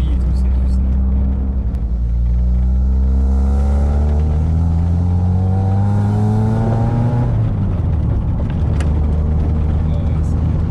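Volkswagen Golf Cabriolet Karmann driving with the top down, its engine humming steadily and rising in pitch as it accelerates through gears, close and rumbling, while people talk over it.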